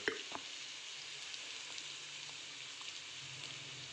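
Onion sizzling in hot oil as turmeric and chili powder go into the pan, a steady close crackle with a few sharper pops near the start.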